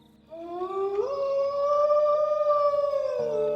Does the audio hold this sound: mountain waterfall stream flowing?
no